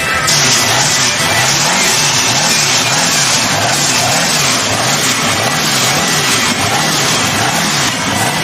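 Street-legal muscle car engines at a car show rumble loudly and close, with a heavy, continuous drone and a rhythmic wavering in the low exhaust note, as if one engine rises and falls around idle.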